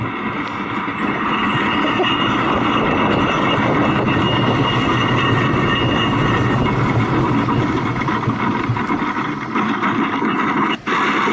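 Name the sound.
mountain coaster car running through the finish curve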